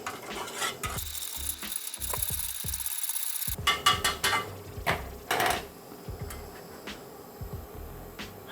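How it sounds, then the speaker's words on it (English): Rapid clicking and scraping of a spoon stirring a drink mixed with water from an MRE, busy for a few seconds, then a handful of scattered taps and knocks. "we'll give it a quick stir."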